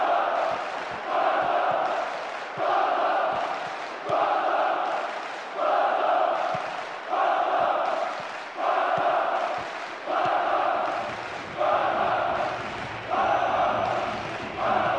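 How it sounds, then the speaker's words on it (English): A packed football crowd at Barcelona v Hapoel Tel Aviv roars in a steady rhythmic chant, swelling and dipping in regular pulses about once a second, loud and distant-sounding from the stands, with no clear talk over it. "Crowd are roaring themselves hoarse."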